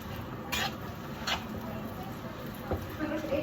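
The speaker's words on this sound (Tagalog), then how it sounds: "So mix lang natin hanggang matunaw yung cheese na hinalo natin." A pan of food with mixed-in cheese is stirred, giving soft scraping and clinking of a utensil against the pan with a few louder knocks, under a steady background hiss.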